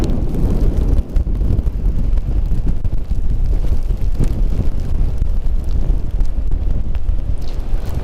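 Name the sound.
wind blowing during a blizzard at Lake Tahoe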